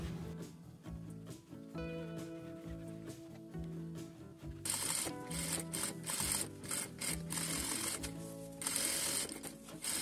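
A sewing machine runs steadily, stitching a safety seam all around the edge to hold the outer fabric to the padded batting of an accordion bag, with the motor getting louder and busier in the second half, no talking.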